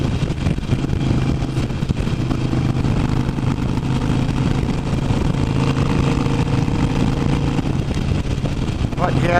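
A Harley-Davidson Iron 883 motorcycle engine runs steadily, its deep, even rumble continuous and close throughout with no break or clear rev change.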